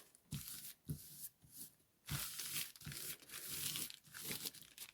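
Tissue paper being smoothed flat onto a junk journal page by hand, heard as repeated soft crinkling and rustling strokes, close and fairly loud, in uneven bursts with short pauses between.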